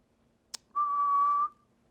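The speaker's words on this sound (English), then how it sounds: "I ask you to whistle." A person whistles a single steady, clear note lasting under a second, preceded by a short sharp click, in an otherwise quiet room.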